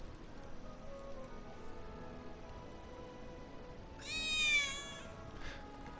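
A single drawn-out cat meow in Final Fantasy VII Remake rises out of a quiet, rain-like background hush, fairly close and clear, with no talk.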